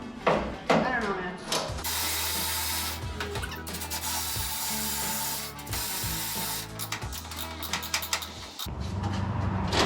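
An electric ratchet on a 1967 Chevrolet C10 trim job whirs and clatters in several bursts of a few seconds each, close and fairly loud, with intermittent mechanical rattling between runs.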